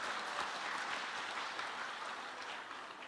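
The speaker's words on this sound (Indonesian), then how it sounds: "Tepuk tangan untuk NU, Bang." Faint, steady applause from a crowd at a centennial celebration of Nahdlatul Ulama in Gianyar, a soft continuous patter of clapping heard from a distance with no talking.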